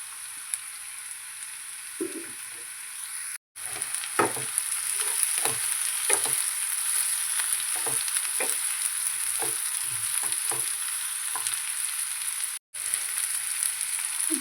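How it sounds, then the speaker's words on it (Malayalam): Sliced onion fries in a pan for an ivy gourd and peanut stir-fry, a constant close sizzle broken by repeated scraping stirs, with no talking. "ഇനി നമുക്ക് സവാള ചേർത്ത് കൊടുക്കാം."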